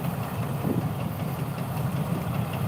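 Diesel engine of a combine harvester reaping deluxe paddy, heard from a short distance as a steady low thudding drone with continuous mid-frequency rumble and no talk.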